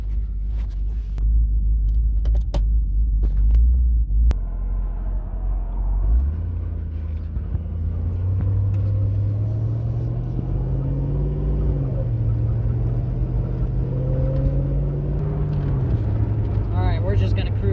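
A Ford Mustang GT rolls along slowly, its engine a low, steady rumble that rises and settles as it pulls away and cruises, with a person talking over it.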